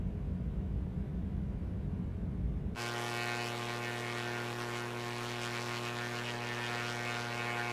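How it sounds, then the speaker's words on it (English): An aircraft's landing gear deploys in a flight simulator game on approach to KSBP. A steady engine rush gives way abruptly to a droning, tonal mechanical hum that continues evenly to the end. "And let's now deploy the landing gear."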